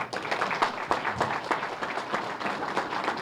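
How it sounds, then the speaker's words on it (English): A crowd at a library renaming ceremony breaks into steady applause, a dense continuous patter of many hands at moderate distance, with no talking over it. "Nice round of applause, please."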